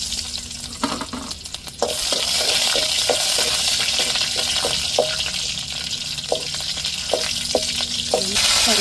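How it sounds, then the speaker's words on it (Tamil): Mustard seeds and onion fry in hot oil with a steady, loud sizzle, and a few spoon scrapes and clicks are heard against the pan, with no voices. "இப்போ கடுகு சேர்த்துக்கிடுவோம், நல்லா பொரியட்டும். வெங்காயம் சேர்த்துக்கிடுவோம்."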